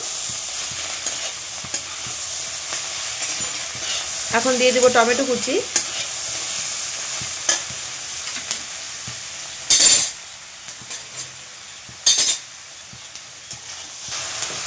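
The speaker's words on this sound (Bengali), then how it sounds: "ভালো করে নেড়ে চেড়ে ভেজে নেব" Vegetables and chopped tomato are stir-fried for mutton chowmein: a steady close sizzle with scraping stirs, a short spoken line over it, and two sharp metallic clanks of a utensil against the pan near the end.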